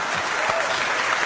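An audience at a comedy performance claps in a dense, continuous wash of applause, loud and close, heard alone with no voices standing out.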